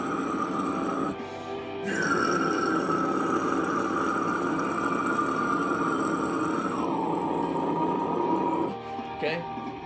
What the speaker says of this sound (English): So it's growling, it's pushing through